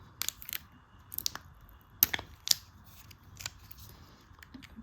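A tarot herbal remedies oracle card deck package is opened, with quiet crinkling, tearing and snipping sounds in short irregular bursts, close to the ear and faint, with no talk.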